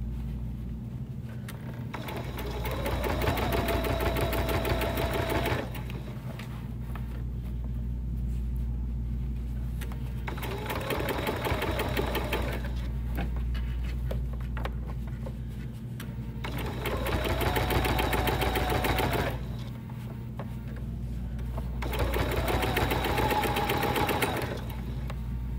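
A sewing machine stitching binding over an open seam on a small fabric bag, its motor whirring in steady runs that stop and restart several times, close up.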